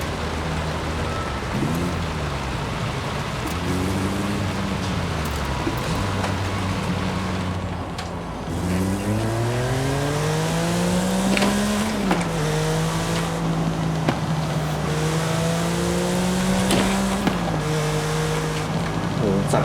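A 2021 Porsche 911 GT3 naturally aspirated flat-six engine in a video game revs up and down through gears, pitch rising and dropping repeatedly, steady and loud with a constant background wash.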